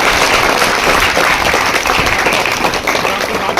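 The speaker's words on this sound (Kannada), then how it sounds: "ಹಂಗಾಗಿ ನಾವೆಲ್ಲ ಮತ್ತೊಮ್ಮೆ ಸಾಹೇಬರಿಗೆ ಚಪ್ಪಾಳೆ ಹೊಡೆದ ಮುಖಾಂತರ" A crowd at a government pre-university college environment day event in KR Sagar, Srirangapatna, claps steadily in a sustained, fairly loud round of applause.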